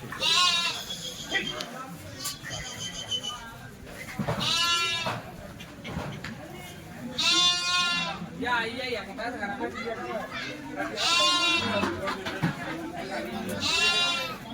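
Gujarati Nizampuri sheep bleat repeatedly amid a livestock crowd, several loud calls near and far, with people talking in the background throughout.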